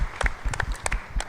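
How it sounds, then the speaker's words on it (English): An audience claps for veterans at a chamber of commerce gathering in Bellworks, a short burst of scattered, fairly close hand claps with a few distinct strikes. "we are going to just a round of applause for all the veterans"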